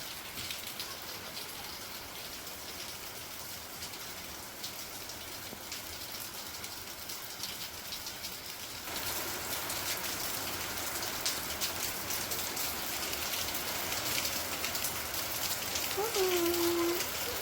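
Rain falls steadily as a dense, even hiss that grows noticeably heavier halfway through and then continues without a break, with a brief faint tonal sound near the end.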